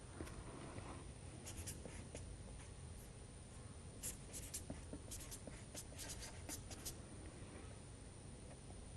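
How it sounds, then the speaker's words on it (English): A name being written on paper, heard as soft, close pen-on-paper scratching in short irregular bursts of strokes over a low steady background hiss. "and you write your sister's name"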